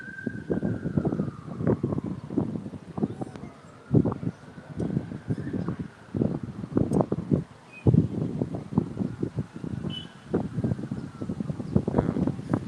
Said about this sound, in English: It's really windy, right?